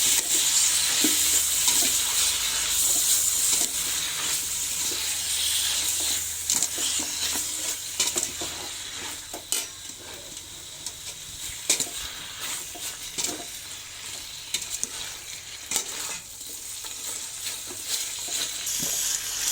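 Spice paste and prahok stir-fry in a pan, a steady close sizzle broken by repeated scrapes and clicks of a stirring utensil.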